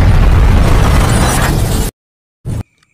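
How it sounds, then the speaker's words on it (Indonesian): A bomb blast destroys a city in a zombie film: a loud, broad roaring burst that rumbles for nearly two seconds, cuts off abruptly to silence, then returns as one brief, sharp second burst. "seluruh kota yang dihancurkan dengan bom"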